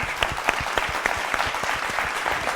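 A studio audience at a Kannada singing reality show claps for singer Girish, a brisk, fairly distant round of applause with sharp individual claps standing out, and no voices over it.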